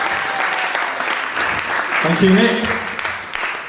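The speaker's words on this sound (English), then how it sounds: "Give him a big round of applause." Audience applause rolling steadily as a speaker is welcomed onto a stage, moderate and continuous, with a voice briefly speaking over the clapping.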